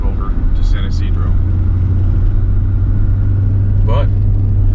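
A car drives slowly along a road in Costa Rica toward San Isidro, held up behind a truck loaded with coconuts. Its steady low engine rumble and road noise run throughout, with a few brief higher sounds over it.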